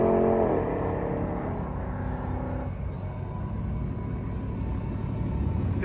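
A Supra car engine at a drag strip, Bandimere Speedway on its last day, rumbling loud and steady throughout, with a revving rise at the very start before settling into a dense, continuous roar.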